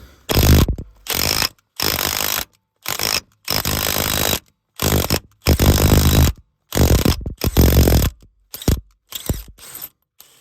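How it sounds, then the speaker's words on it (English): An impact wrench hammers at a motor mount bolt on a Tiguan in bursts, about a dozen short rattling runs alternating with silences as the bolt is backed off and driven in; close and loud, no voices. "I'm gonna try and work it off with the impact."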